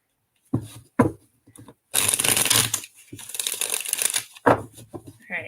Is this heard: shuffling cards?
yes